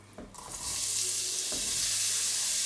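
Chopped onions drop into a hot pot for a one-pot zucchini lunch and burst into a loud, steady frying sizzle after a brief clatter, continuing alone without talk.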